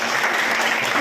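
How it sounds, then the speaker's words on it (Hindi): Children at a school traffic-safety session clapping together, a dense, steady burst of applause filling the whole moment without a break. "आपके लिए जोरदार तालियां"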